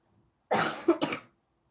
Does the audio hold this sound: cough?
yes